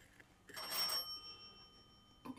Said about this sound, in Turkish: İnşallah kapı çalıyor, duymuyor musun?